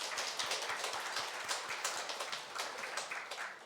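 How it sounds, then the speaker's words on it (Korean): A church congregation claps in welcome during a Sunday worship service, a dense, steady patter of many hands carrying on throughout at a moderate distance, with no voices over it. "박수 또 환영해 주시기 바랍니다"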